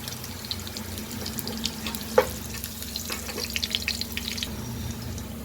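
Crushed garlic sizzles softly in a hot pan for a fenugreek-leaf palya, a steady close crackle with scattered pops and a brief clink of stirring, with no talking.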